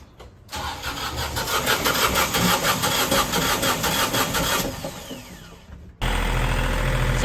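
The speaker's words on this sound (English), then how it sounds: "So we got the engine running," A catamaran's port engine cranks, catches and settles into a steady, loud mechanical running note, with a brief cut near the end before it resumes even louder and close by.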